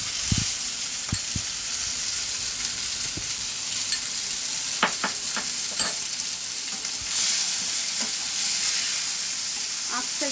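Spice paste fries in a hot pan with a steady sizzle and hiss, while a spoon scrapes and stirs in irregular clicks and taps throughout.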